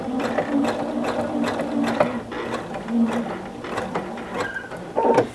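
A sewing machine stitches a placemat with a fast rhythmic mechanical clatter, running unevenly in short bursts with small clicks and pauses, close and fairly loud, with no talking.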